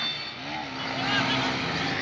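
Motorcycles revving during a street motorcycle-swap session with riders doing no-hands tricks, a steady dense engine roar with a rising pitch sweep, close and loud throughout.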